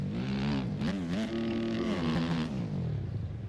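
Motorcycle engine revving in the MX Bikes game, set up for supercross with suspension testing, a loud continuous roar rising and falling in pitch before easing off at the end.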